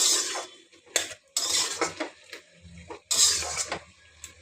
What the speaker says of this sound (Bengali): ভেজে রাখা ডালের বড়া আরও আলুগুলো দিয়ে দেব। দিয়ে আর একটু নাড়াচাড়া করে